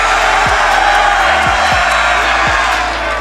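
Huge esports arena crowd at the BLAST R6 Major Atlanta grand final roaring and cheering continuously, a loud, dense wall of voices with whoops and shouts throughout.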